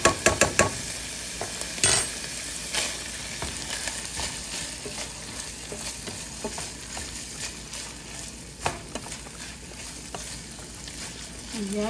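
Meat fries in a pan with finely chopped garlic, giving a soft continuous sizzle punctuated by scattered clinks and scrapes of stirring.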